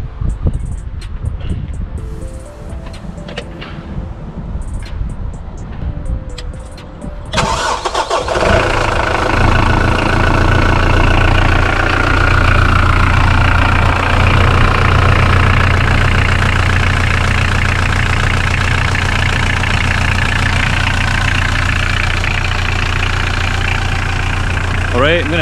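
A Mitsubishi L200 K74 pickup, just repaired for a boost leak, cranks and fires after about seven seconds of quieter handling sounds, then settles into a steady, loud, close diesel idle for the rest of the clip.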